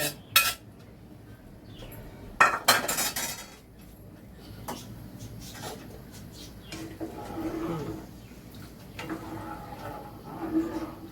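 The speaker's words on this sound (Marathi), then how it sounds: "ह्याच्या परत मी ह्याच्यावर झाकण ठेवते" Metal clatter of a lid set onto a cooking pot while making chicken biryani at home, with a few sharp clanks early on and softer kitchen knocks afterward, and someone talking quietly.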